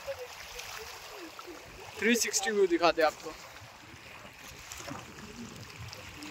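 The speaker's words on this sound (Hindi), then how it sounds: "देख रहे हो कितना जो आवाज है ना पानी की" Water flowing at Aapti dam near Lonavala, a continuous outdoor rush that runs under someone speaking partway through.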